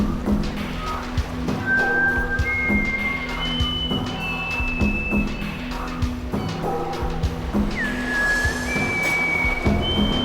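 A person whistles a series of sustained, gliding tones with pauses between them. The whistles sit moderately close over a low hum and background noise, and a sharp upward-swooping whistle comes near the end.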